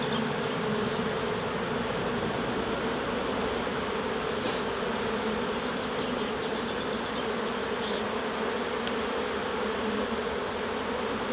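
Honey bees swarming inside a crowded hive, a dense continuous buzzing drone that stays loud and even throughout with no voices.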